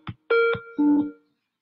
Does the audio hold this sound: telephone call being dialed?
yes